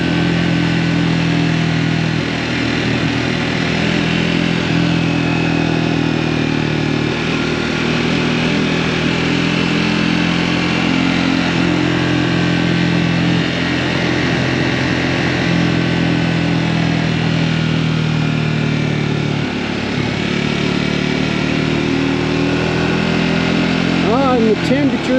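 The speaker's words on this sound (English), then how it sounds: "the Scrambler 400 is such a fun bike for this canyon" A Scrambler 400X motorcycle riding through a Utah mountain canyon, its engine a steady mid-pitched drone with wind rush, loud and continuous while a rider talks over it.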